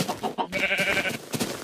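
A sheep in the Minecraft video game gives a single short nasal bleat, heard close and fairly clear among faint game sounds.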